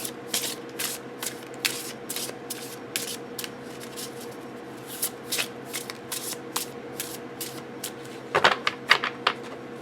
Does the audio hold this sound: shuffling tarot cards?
yes